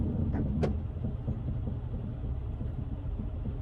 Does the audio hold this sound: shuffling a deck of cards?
no